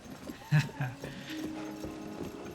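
Horse hooves in Zelda: Tears of the Kingdom, a few soft clip-clop hoofbeats heard under someone talking.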